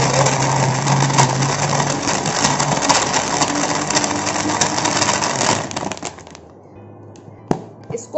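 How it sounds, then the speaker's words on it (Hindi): A blender whirs steadily and loudly, blending a banana shake with ice cubes, then cuts off, leaving a few faint clinks; a voice talks softly over it. "इसको हमने अच्छी तरह से ब्लेंड करना है ताकि इसमें कोई चाहम ना रहे।"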